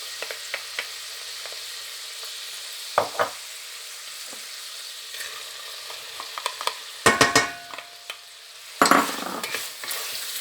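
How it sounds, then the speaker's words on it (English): Garlic and onions sauteing in bacon fat for a lentil stew, a steady sizzle broken by repeated scraping stirs of a utensil against the pan, louder bursts near the end. "we're going to add our garlic and our onions, and we're going to saute those in the bacon fat"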